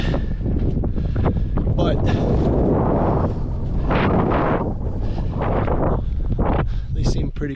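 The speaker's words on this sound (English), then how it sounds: "I know it's windy. There's nothing to block the wind," Heavy wind buffets the microphone in a constant roaring rumble at open sand dunes with nothing to block it, with a person speaking briefly over the gusts.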